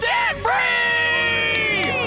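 A small group on a debt-free celebration radio show yells a prolonged, loud, excited scream together, with a short break near the start before the voices surge again.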